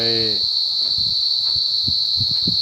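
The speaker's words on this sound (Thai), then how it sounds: "เสียงจิ้งหรีดจิกุงก็จะร้องเพลงบรรเลงกัน" Crickets at night at a Buddhist temple in Thailand make a constant high, shrill chirp that rings steadily throughout, with soft low thumps and a brief voice at the very start.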